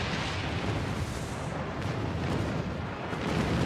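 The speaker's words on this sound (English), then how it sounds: "I love TOS phasers. I love the noise they make." TOS phasers fire in Star Trek Online in a dense, sustained dual-beam barrage, a loud, rumbling, continuous wash of energy blasts with no pauses.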